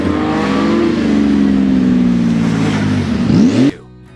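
A white Porsche 911 GT2 with a 3.6-liter twin-turbocharged flat-six revs hard and close, its pitch sweeping up and down several times before cutting off sharply at the end.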